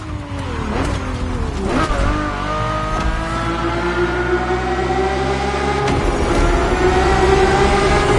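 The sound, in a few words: Ferrari F50 naturally aspirated V12 engine revving, from video game The Crew Motorfest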